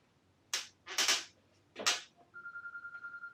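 Several sharp clatters and knocks come first, then a phone's steady electronic ringtone pulses in a quick even series, close and fairly clear, all in a workshop where a Yamaha TTR250 exhaust is being modified.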